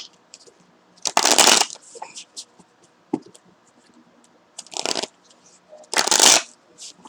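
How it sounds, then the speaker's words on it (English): Three bursts of tarot cards being shuffled, crisp riffling rustles spaced a couple of seconds apart, close up with quiet pauses between. "One more shuffle, y'all."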